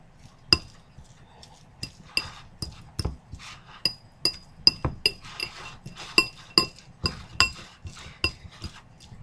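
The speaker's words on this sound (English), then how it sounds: "you want to mash them up as good as you can" Cooked black beans mashed for burgers, heard as a series of sharp clinking knocks of a utensil against a bowl, roughly one or two per second, close and fairly loud with no talk.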